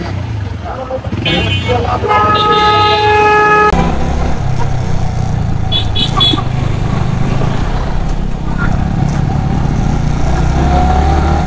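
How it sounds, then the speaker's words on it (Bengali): Busy Bandarban road traffic during the Eid rush, with a loud sustained car horn blast early on, engines of cars and motorbikes rumbling close by and faint voices underneath. "গাড়ি ঘোড়ার চাপ অনেক।"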